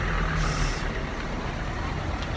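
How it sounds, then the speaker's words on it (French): Busy street traffic roars steadily as a truck rumbles past, a brief hiss of air brakes rising near the start, loud and close with no voices. "donc maintenant c'est le bruit des voitures"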